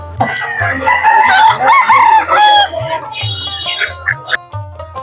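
Native chickens and roosters at a weekly village poultry market crow loudly and cluck close by, with people talking among them.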